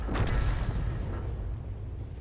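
A tank's main gun fires a kill shot in World of Tanks, the FV207 in play: a heavy, booming blast near the start with a rumbling low-end tail that slowly fades over about two seconds.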